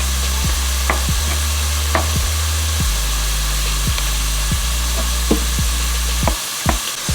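Seasoned carne asada steak sizzles steadily in a pan. A low, constant hiss runs throughout, with evenly spaced scraping or tapping strikes cutting across it, and nobody speaks.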